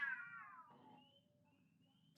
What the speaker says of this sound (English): There might be a cat orgy outside my window right now.